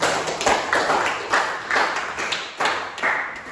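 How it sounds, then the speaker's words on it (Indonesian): Clapping in a classroom during an economics lesson, sounding as a series of sharp, separate claps in an uneven rhythm from a small group, close and fairly loud. "Tepuk tangan untuk Zahra."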